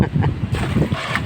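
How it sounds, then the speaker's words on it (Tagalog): Strong storm wind at sea, heard from a fishing boat during a typhoon: a steady, loud roar of gusting wind buffeting the microphone, with wave and water noise underneath and no talking. "Alam mo, lakas ng hangin na o."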